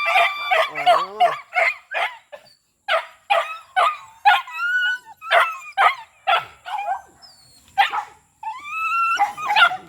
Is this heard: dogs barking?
yes